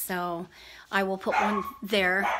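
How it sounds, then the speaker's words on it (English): Small dogs, one a dachshund, bark and yip in a few bursts close by, with a person talking over and between them. "Sorry for the dogs."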